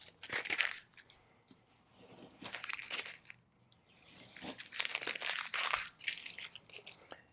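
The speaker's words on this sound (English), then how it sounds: "I'm going to take the painter's tape off now." Painter's tape is peeled off a carbon fiber rear spoiler on a Tesla Model 3, giving close crinkling and tearing rips in several uneven bursts separated by brief quieter pauses, with no one talking.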